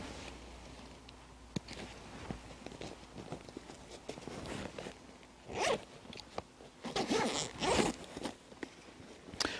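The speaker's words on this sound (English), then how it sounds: "Again, a really, really large zipper" A large zipper on a 5.11 Tactical Rush 12 backpack's main compartment pulled open in several quick, rasping bursts, close and fairly loud, with soft handling noises and rustles between.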